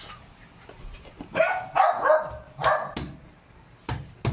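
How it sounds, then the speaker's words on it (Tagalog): Dogs barking in a backyard, a run of loud close barks and yips in short irregular bursts, with some brief pauses between them. "huwag kayo tahol ng tahol"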